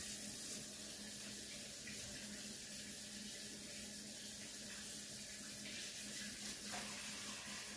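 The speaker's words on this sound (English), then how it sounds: "I'm going to wash my hands really quick here." Kitchen tap running steadily while hands are washed, a continuous close splashing rush of water with small shifts in the flow and no voices.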